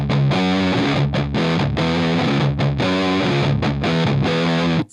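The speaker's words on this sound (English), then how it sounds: "when you push the distortion on this channel, it pushes it into just like kind of just fat lead sound" A heavily distorted electric guitar through a Drunk Beaver Bat Cold War RAT-style distortion pedal plays loud, thick chords in short bursts with brief gaps, sustained and gritty throughout.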